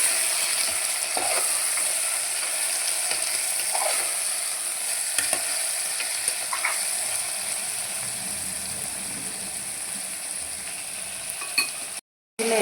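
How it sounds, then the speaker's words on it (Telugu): Mutton bones being stirred in a pot for Tamil Nadu–style bone soup, a steady sizzling, scraping churn close to the mic that runs throughout, with a brief dropout near the end. "మటన్ బోన్స్ కలపెట్టేసుకున్నాం మంచిగా."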